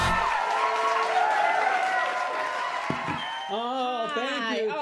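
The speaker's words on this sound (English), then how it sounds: "Hold your applause." A studio audience at a New Year's Eve live show cheers and applauds in a dense, sustained roar, with whoops rising over it and voices coming in toward the end.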